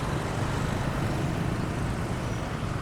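Jammed traffic on a wet market street near Pasar Kuto in Palembang, a dense steady rumble of engines and road noise at moderate level with no clear individual events.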